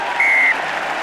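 A rugby home crowd at a Newport Gwent Dragons v Leinster match cheers a successful kick. There is a short, loud burst of applause and cheering, with a thin, high whistle-like tone sounding briefly over it.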